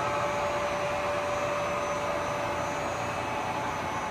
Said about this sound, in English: Very smooth sounding spindle.